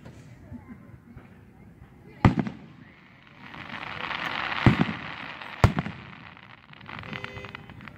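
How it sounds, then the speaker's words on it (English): Random fireworks popping in the distance at night, three sharp bursts with crackling between them, heard under casual talk from nearby people. "I just seen some random fireworks are popping up over there"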